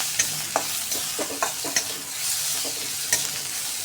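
Coarsely ground whole spices (cardamom, cloves, peppercorns, cinnamon) stirred and fried in hot oil for a dhaba-style veg kofta gravy, a steady close sizzle broken by repeated spoon scrapes against the pan.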